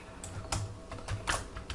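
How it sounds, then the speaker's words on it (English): Quiet typing on a computer keyboard, a few separate key taps spaced irregularly across a short moment, with no one talking. "I forgot to type the dollar sign."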